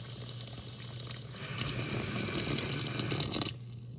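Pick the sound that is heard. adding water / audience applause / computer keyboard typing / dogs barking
adding water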